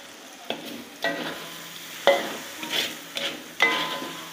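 Genjer flowers (yellow velvetleaf) are stirred in a hot pan with a little added water and seasoning, making a soft sizzle broken by five or six separate scraping strokes, close up, with no voices.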